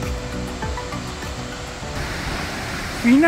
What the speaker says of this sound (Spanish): Miren qué hermosa caída de agua